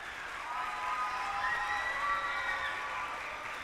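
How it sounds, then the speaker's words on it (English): Soft, distant audience applause at a church vacation Bible school finale, a diffuse steady patter of clapping from the congregation, fairly faint with some tonal ringing hum above it. "let's give them a round of applause"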